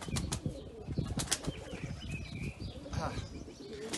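Pigeons at a Turkish loft coo softly and flap their wings in short bursts, close and lively, under a man's speech.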